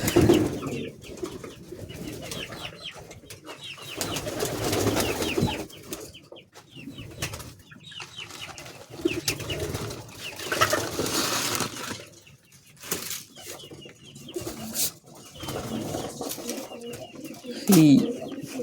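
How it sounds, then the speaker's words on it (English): Pigeons cooing in a backyard pigeon coop, a steady murmur of soft low coos close by, with other coop noises and a voice talking at times. "See our pigeons."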